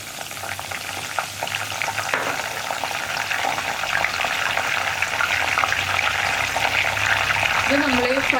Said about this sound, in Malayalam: ചേർത്തിട്ട് ഫ്രൈ ചെയ്തെടുക്കാം.